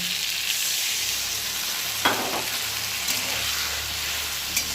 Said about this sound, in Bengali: এদিকে আলু বেগুনটা মোটামুটি হয়ে যাচ্ছে একদম ভাজা